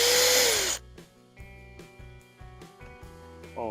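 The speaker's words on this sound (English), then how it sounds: "let's see if I'm going to ruin my drill with this massive 5/8 drill bit" A DeWalt DCD805B 20V Max hammer drill bores with a large 5/8 bit, starting with a loud whirring burst, then giving way to several short, uneven motor pulses and clicks as the bit catches and stops.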